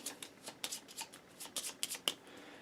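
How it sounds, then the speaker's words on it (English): A small deck of Gaia Project Automa cards shuffled by hand, a quick series of crisp riffling flutters and snaps at close range. "you shuffle those up"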